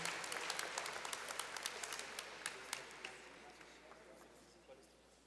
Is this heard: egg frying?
no